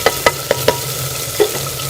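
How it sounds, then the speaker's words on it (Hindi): Bhuna gosht masala being stirred in a pan, a spoon scraping and knocking against the metal in a quick run of sharp clicks and then one more, over a low steady sizzle of frying. "मैं इसे अच्छी तरह से भून लूँगी।"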